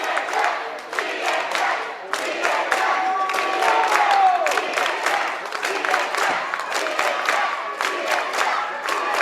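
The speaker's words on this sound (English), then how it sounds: "Crowd is going wild." High school basketball crowd at a Hazen vs Danville game roaring and cheering loudly, a dense sustained wall of shouts and whoops with a few sharp claps and a whistle-like tone rising through it.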